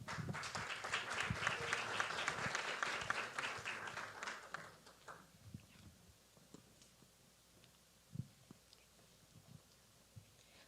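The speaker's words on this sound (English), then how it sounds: "Please give a warm applause and welcome to Valeria." Audience applause welcoming a contestant onto the stage at a Falling Walls Lab event in Ecuador, a loud burst of dense clapping for about five seconds that fades into faint room noise and scattered small sounds.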